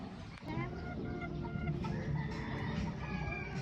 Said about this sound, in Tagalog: Mga quality hens. Bull hen na pala, bull hen.